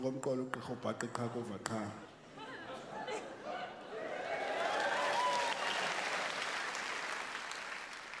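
Studio audience on a South African talk show breaks into applause mixed with chatter, rising from about two seconds and swelling steadily after a voice speaks at the start.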